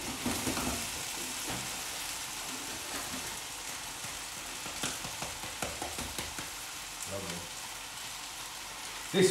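Hiroshima style okonomiyaki batter sizzles in a frying pan, a steady close crackle and hiss with occasional scraping and clinks.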